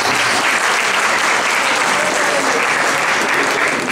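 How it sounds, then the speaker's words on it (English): An audience at a Dasara-Deepavali community function bursts into loud, steady applause, a dense wash of many hands clapping together that holds unbroken throughout. "A big round of applause for all of you."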